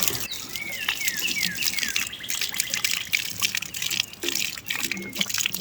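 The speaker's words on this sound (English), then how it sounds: "Very pretty fountain, I'm sure." Water gushes steadily from a roadside fountain on a walking trail, a close, continuous splashing stream with birdsong chirping above it.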